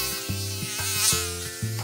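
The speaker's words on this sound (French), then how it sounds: "les moustiques virevoltent et leur bourdonnement léger devient un vrai bzz permanent" Mosquitoes buzzing in a jungle, a steady high-pitched whining drone that pulses slightly in a regular rhythm, close and clear with no voices over it.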